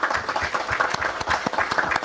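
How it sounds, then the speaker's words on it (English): Applause from the audience at a town council meeting honoring parents and coaches, a steady patter of many hands clapping at moderate loudness, with individual claps audible through the brief burst. "Let's give them a round of applause, the parents and the coaches"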